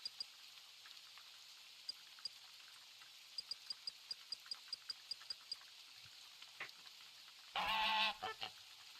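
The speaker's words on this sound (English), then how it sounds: "That does not sound like the goose I am after." Goose honks in a video game on the Revontuli Coast map come as a string of faint, evenly spaced calls. A louder, harsher burst follows near the end, with no talking.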